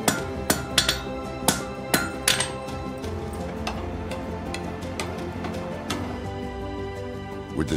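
A blacksmith hammers the welded spike ends of an old salvaged iron gate into one central point, metal strikes ringing sharp and loud at an uneven pace, spaced a second or so apart, with a lingering metallic ring between blows.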